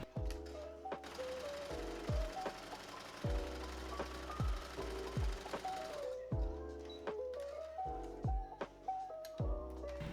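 A sewing machine runs parallel basting stitches across the top of a lace wedding-dress skirt, clattering in short, uneven bursts with sharp mechanical ticks and brief pauses, close and moderately quiet.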